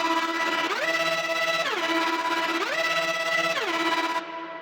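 Loud, bright FM synth lead with a screaming, buzzy tone, built for progressive house; sustained notes rise and fall in pitch with gliding slides, continuous and dense with no voices.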